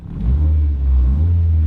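A high-mileage Ford car with 157,000 miles, just started, its engine running loud and close with a deep steady rumble and a slight swell in revs, with no talk.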